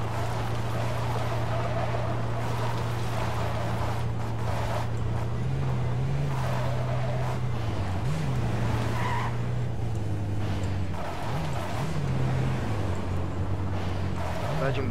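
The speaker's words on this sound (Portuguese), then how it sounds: "Esse motorzão tá pica, né, desse carro." A powerful car engine roars steadily in Gran Turismo, its low drone rising and falling with gear changes and accompanied by tire skids, while a voice speaks over it throughout.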